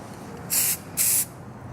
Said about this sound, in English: Spray paint it.